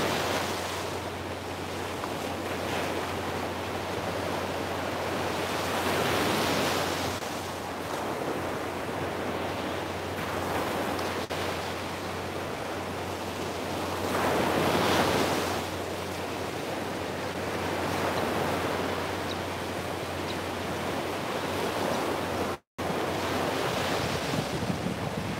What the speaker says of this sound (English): Listen to these waves and set our intentions for the day.